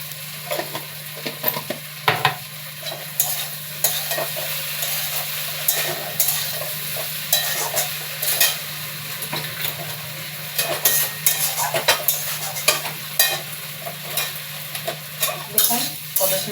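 Okra with potato and tomato for a Bengali-style curry sizzles in a pan while a spoon scrapes and stirs it in irregular bursts over a steady frying hiss.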